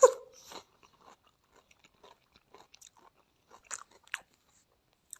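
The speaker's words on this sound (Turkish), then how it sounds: "Ben köyde olduğum için acur yiyorum. Acur yiyorum bir Nazım da lokma bitsin başlayalım. Çünkü çok kötü bir ses çıkacak." Crunchy bites and chewing of raw acur (snake melon) close to the microphone, a loud first crunch followed by scattered quieter chewing clicks and a couple of sharper bites, with no talking.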